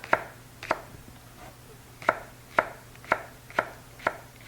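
A knife chops green onions on a cutting board in a home kitchen: about nine sharp, close knocks in a steady, unhurried rhythm with quiet gaps between, no voices.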